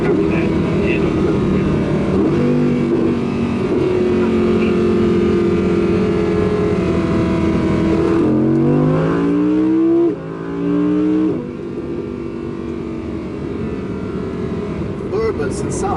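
A high-pitched non-turbo Audi R8 Coupé V10 engine drones and then revs up through rising gear pulls, loud and close, with a voice talking over it at times.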